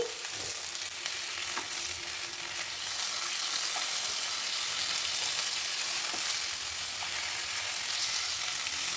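Masala fish fries in a pan with a soft, continuous sizzle and crackle, a few faint clinks rising above the steady hiss.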